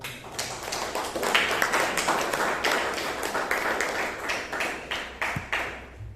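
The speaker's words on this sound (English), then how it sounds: "Please give him a loud round of applause." Audience at a Toastmasters club meeting in Bangalore giving a round of applause, steady dense clapping from a room of people that holds evenly for several seconds.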